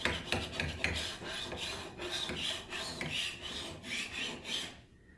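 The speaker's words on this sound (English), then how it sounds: "So I'm starting off very gentle with my scraping" Cracked milk paint scraped off wood by hand and fingers, a dry rasping rub in repeated strokes, close and fairly even until it stops at the end.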